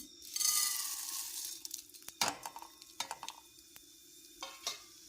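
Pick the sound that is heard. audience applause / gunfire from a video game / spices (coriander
spices (coriander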